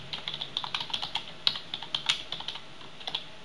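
Rapid, fairly even clicking of someone typing an email on a computer keyboard, a steady run of close, light keystrokes with one or two louder taps and no talking.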